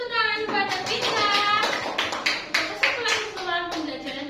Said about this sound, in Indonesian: Baik, berikan tepuk tangan kepada kita.